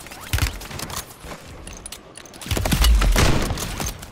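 Bursts of gunfire from a Call of Duty match, sharp cracks scattered through the first half, then a louder, denser volley near the end, all close and without speech.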